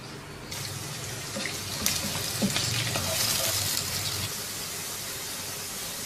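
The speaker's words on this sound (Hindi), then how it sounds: "इसमें डाल देंगे सबसे पहले 4 खाने के चम्मच तेल के, 1 दरमियाने साइज़ का प्याज स्लाइसिस में कटा हुआ" Sliced onion frying in about four tablespoons of oil in a pot, a continuous close sizzle that swells after the first half second, with faint scraping stir sounds and no talk.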